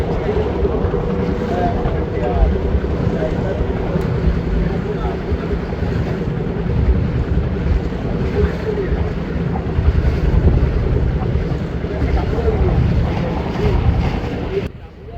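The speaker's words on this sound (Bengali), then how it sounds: "নীলডুমুর থেকে ট্রলার ছেড়ে আমরা সোজা উজান ধরেছি" A trawler boat motors upriver from NilDumur through the Sundarbans waterways, its engine drone steady and close throughout, mixed with rushing water and wind buffeting the microphone.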